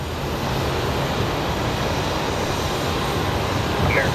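A heavy jet takes off at Phoenix Sky Harbor International Airport on a long takeoff roll, producing a continuous broad engine roar that holds steady throughout.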